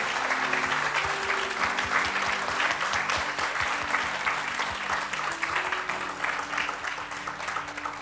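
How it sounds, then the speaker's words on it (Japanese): Steady applause from a church congregation fills the space, dense and continuous for several seconds with a faint hum of voices beneath. "Give the Lord a clap."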